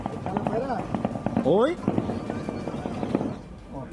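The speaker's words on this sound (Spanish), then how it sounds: "así los balazos allá en Culiacán" Gunfire crackles in Culiacán, Sinaloa, as a series of sharp, rapid pops scattered across a few seconds, partly under a person speaking.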